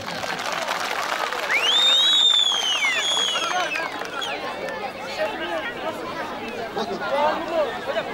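A village crowd at a Hıdırellez wrestling festival in Üveyikli claps and cheers, with loud crowd voices, chatter and a rising whistle-like cry mixed into the applause.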